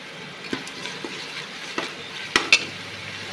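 Ginger and garlic sautéing in a pan, with a soft sizzle beneath a few distinct clinks and scrapes of a spoon stirring against the metal, close and fairly quiet.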